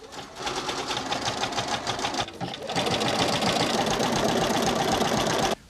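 A sewing machine stitches curtain fabric for a bus build, running in a steady, close mechanical whir that pauses briefly midway, then resumes faster and louder before stopping abruptly.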